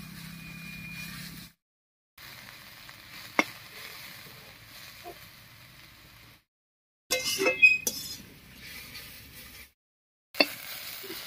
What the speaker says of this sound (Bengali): এবারে বেশ কিছুক্ষণ সময় নিয়ে আস্তে আস্তে করে কুমড়োটা ভেজে নেব।